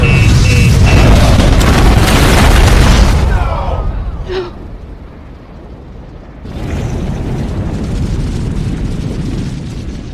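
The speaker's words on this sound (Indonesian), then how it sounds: "Bunker itu pun meledak dan menewaskan Yasanwa." A bunker blowing up in an action film, a loud deep roaring blast with rumbling debris that fades into a quieter stretch before a second surge of rumble, while a narrator's voice talks over it.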